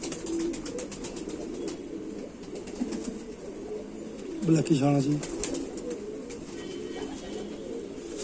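A hen pigeon coos once, near and clear, in a low burbling call midway through, while someone talks continuously over quiet room noise.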